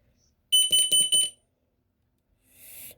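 A Snap Circuits fire alarm built from a kit sounds a shrill electronic alarm in four quick pulsing bursts, then a softer, noisier tone rises near the end; no one speaks.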